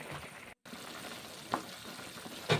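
Radish and long beans with a spice mix frying in a pan, a soft low sizzle with a few light stirring scrapes and clinks, faint and close.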